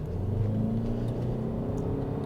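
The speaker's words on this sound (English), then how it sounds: "let's see what the acceleration is like." A 2025 Toyota Camry XLE Hybrid accelerates with a steady, mid-pitched engine rumble and whir. The sound is heard from inside the cabin, continuous and fairly loud throughout the short stretch, with no talking.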